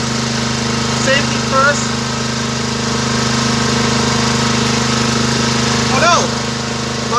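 A cheap welder generator's engine runs at steady RPM, a continuous mid-pitched drone with a low hum that carries through the whole stretch while someone speaks briefly over it.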